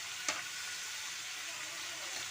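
Vegetables fry in a pan with a soft, steady sizzle, close and fairly quiet, marked by a single brief click near the start.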